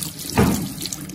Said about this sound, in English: After you wash your hands, you got dry.